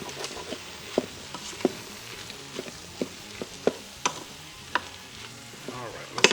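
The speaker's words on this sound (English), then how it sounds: "Then mix it in" Jambalaya being stirred in an Instant Pot, a soft bed of sizzling broken by a regular run of distinct scraping and tapping strokes of a spoon against the pot.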